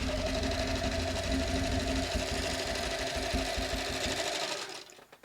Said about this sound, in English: I'm really impressed with this sewing machine because it's all metal.